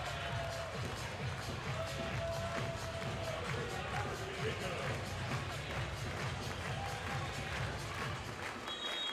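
A volleyball crowd at Cliff Keen Arena cheers at match point for the Michigan Wolverines against CMU. The roar is steady and dense throughout, with a commentator talking over it.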